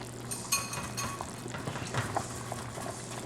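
A spoon stirs thickener into a pot of vegetable beef soup, giving soft scraping and occasional light clinks of metal against the pot, fairly quiet and close, with no talking.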